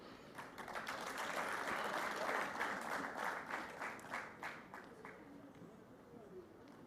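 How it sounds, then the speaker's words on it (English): An audience at a World Environment Day celebration claps for awardees, building to a steady round of moderate applause that thins into scattered claps with some voices near the end. "let us give all our awardees another well-deserved round of applause, please."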